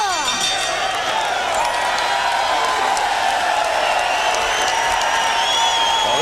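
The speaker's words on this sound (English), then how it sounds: "The crowd loves it" Boxing crowd at a heavyweight bout roaring and cheering continuously, a broad sustained wash of voices with whistles and shouts rising over it, fairly loud throughout.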